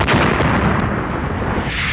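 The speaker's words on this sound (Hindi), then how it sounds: "अभी वो मंजर देखिए जब पुतिन की आर्मी ने यूक्रेन की राजधानी पर ड्रोन से अटैक किया तो क्या हुआ" Explosions from a Russian drone attack on Kyiv, a dense continuous roar of blasts and rumbling booms, loud and sustained throughout with no clear gaps between detonations.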